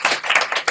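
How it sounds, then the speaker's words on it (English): An audience gives Professor Bosch a round of applause at a Halloween conversation event, a short burst of dense, loud clapping from many hands. "If we can give Professor Bosch a big round of applause"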